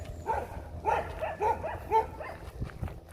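A dog barks repeatedly outdoors in a quick run of loud, close barks, with a low background rumble and no talking.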